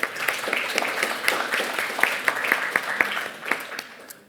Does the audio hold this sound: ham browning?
no